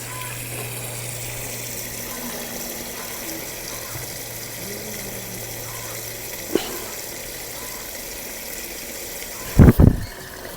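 Water being filled into a snake hole, heard as a faint steady flowing wash with a low hum, a small knock midway and a couple of sharp bumps near the end.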